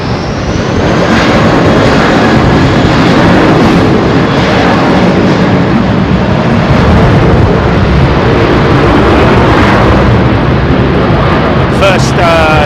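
An American Airlines Boeing 777 departs London Heathrow on runway 27 right, its jet engines producing a loud, steady, close roar that stays sustained and unbroken throughout.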